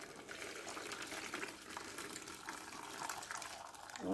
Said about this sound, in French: Je vais renverser le bouillon ici pour le conserver.